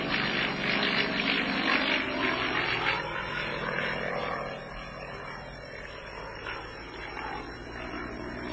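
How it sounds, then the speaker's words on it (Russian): A Yak-50 aerobatic propeller plane flies an aerobatic display, its engine roaring loud and steady before easing slightly as it pulls away, with no voices. "Показы воздушного пилотажа вошел самолет Як-50"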